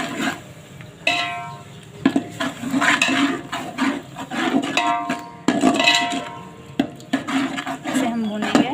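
Ground coriander, garam masala, black pepper and turmeric roast in a pot, heard as repeated metal clanks and scraping stirs of a spoon against the vessel, with a voice talking over parts of it.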